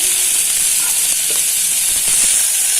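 Tomato masala with turmeric and salt sautéing in a pan for banana flower kurma, a loud steady sizzle and hiss close up with faint stirring scrapes underneath.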